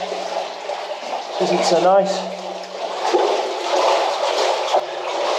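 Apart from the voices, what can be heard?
wading through water in an underground tin mine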